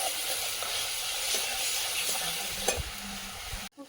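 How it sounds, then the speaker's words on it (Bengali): Spice paste for a fish dish fries in a pan with a loud, steady sizzling hiss, punctuated by stirring scrapes up close, then cuts off abruptly near the end. "মশলাটা ভালো করে ভেজে নেব"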